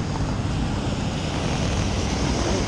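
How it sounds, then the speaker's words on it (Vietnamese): Rough waves slap around a small fishing boat on the lake at Ba Be, a loud, steady wash of churning water mixed with wind roar that never lets up. "sóng như sóng biển luôn này."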